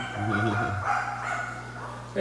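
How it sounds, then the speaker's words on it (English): Excitable pet dogs bark and yip indoors in a home fish room full of aquarium tanks, a short burst of close, loud barking over steady background hum, with a voice talking in the room. "we will tell you guys, apologize for the occasional. Our dogs are high strung."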